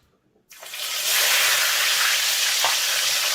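Stock fish dropped into hot oil bursts into a loud, sudden sizzle after half a second of near quiet, then settles into steady, close frying crackle.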